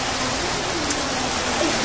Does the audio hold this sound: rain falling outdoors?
yes